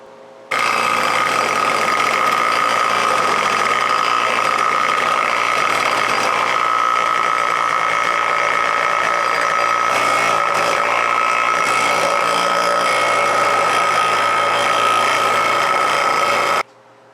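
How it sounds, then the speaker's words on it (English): Bench grinder working a block of wood into improvised rollers for a 41-inch Snapper lawnmower deck, a loud, steady motor whine with grinding noise running unbroken for about sixteen seconds, no talking. "we're going to go ahead and work some of this with the bench grinder"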